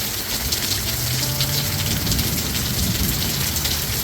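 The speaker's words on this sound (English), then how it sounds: "It is pouring down out here now." Heavy rain pours down outdoors in a steady, dense wash of hiss and splatter, continuous and fairly loud throughout with no talking.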